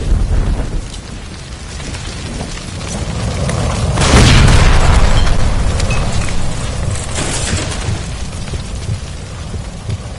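Gas line explosion in the video game L.A. Noire, a loud rumbling boom swelling about midway through over a dense, roaring, crackling background.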